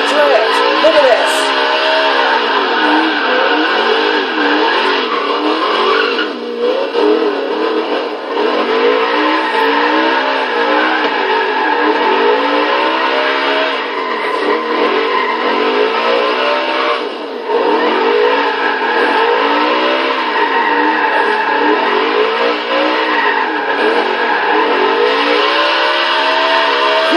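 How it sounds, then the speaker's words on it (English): 1969 Lola #6 Penske Sunoco T70 MkIIIB race car drifting in Forza Horizon 3, a loud steady engine drone with rising and falling revs throughout, pitch swooping repeatedly as it slides. "Who knew that an old race car like this could drift."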